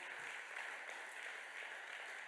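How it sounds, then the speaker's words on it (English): An audience in a church setting claps in a steady, faint patter that lasts throughout, with no talking over it. "You clap."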